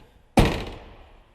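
A single solid thunk as the door of a 1969 Plymouth Road Runner is shut, close and loud, followed by a short fading resonance, with no talking.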